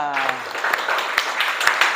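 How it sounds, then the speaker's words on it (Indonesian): Brief applause from a class in a lesson setting, a burst of claps spread across about two seconds right after a voice finishes speaking. "Tepuk tangan untuk kita semua."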